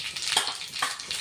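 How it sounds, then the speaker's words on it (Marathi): Mustard seeds dropped into hot oil in a pan sizzle with a bright, crackling hiss, punctuated by a couple of sharper pops, close and fairly loud, with no talking. "तेल गरम झालेलं आहे, मोहरी टाकतोय आपण आता"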